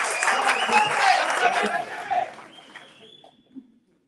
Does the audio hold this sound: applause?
yes